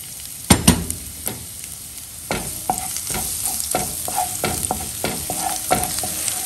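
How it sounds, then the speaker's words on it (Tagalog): Garlic sautéing in olive oil in a pan for pork adobo with salted black beans, a steady sizzle broken by repeated sharp scrapes and clacks of a stirring utensil, close and clear. "Igigisa ko na ang bawang"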